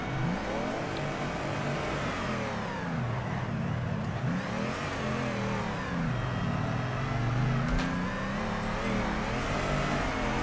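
A drift car in the racing game Torque Drift revs hard and steadily at the Atlanta track, its engine note rising and falling as it slides, loud and continuous with no talking.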